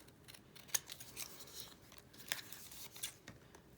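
Scissors snipping washi tape for a framed flower craft, a few soft, crisp cuts spaced out over quiet room tone.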